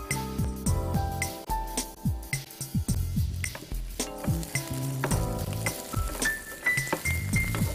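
Onions drop into hot oil in a pan on a TV cooking show, sizzling loudly and steadily while a spoon stirs and clinks against the metal, with no talk over it.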